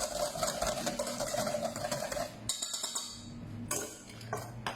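A whisk beating hollandaise sauce in a bowl, a quick continuous metallic scraping that cuts off abruptly, leaving quieter clinks and pauses before brief bursts of stirring.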